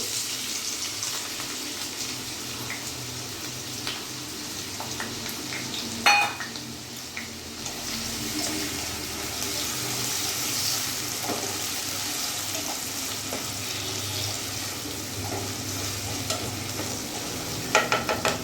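Chopped onions fry in hot oil in a wok with a steady, close sizzle and occasional stirring scrapes, a brief metallic clatter near the middle and a few clinks near the end.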